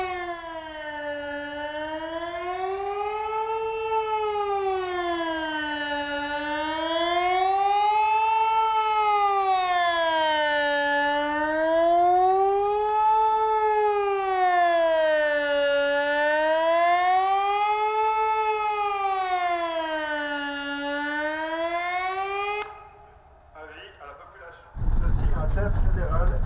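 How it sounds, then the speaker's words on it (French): A Swiss federal civil defense alarm siren sounds during a test at the civil protection site in Prangins, a long wailing tone rising and falling in slow, regular cycles for over twenty seconds before cutting off, followed by a brief burst of nearby noise. "Ceci est un test fédéral des sirènes d'alarme."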